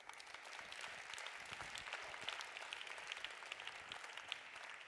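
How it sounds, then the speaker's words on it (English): Steady applause from an audience at a grand opening ceremony, a continuous wash of many hands clapping heard from a distance at moderate volume, with no voices over it. "A huge round of applause"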